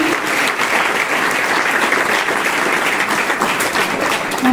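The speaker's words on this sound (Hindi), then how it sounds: "एक बार जोरदार ताली हमारे कुजूर सर के लिए।" Loud, continuous applause from a crowd at a school farewell for retiring principal Kujur, a thick, even roar of clapping throughout.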